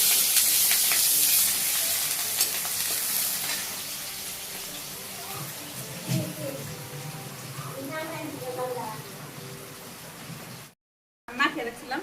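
Chopped onion fries in a pan with a broad hissing sizzle that is loudest at first and slowly eases off, while a person talks over it near the end before a brief cut.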